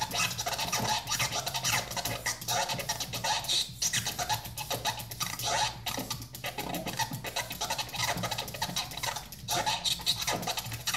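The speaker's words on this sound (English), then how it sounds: "It's gonna be super fast scratching." Super fast DJ turntable scratching using a Z-Fader and Z-Cutter, a dense, continuous stream of rapid scratchy cuts over a steady low backing, loud and close with no pauses and no speech.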